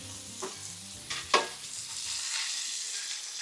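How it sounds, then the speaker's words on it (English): A New York strip steak, salted and peppered, sizzles in oil on a hot griddle. A steady hiss of frying runs throughout, with a few brief louder crackles and scrapes near the start. "We will get our other steak down, our good old New York strip."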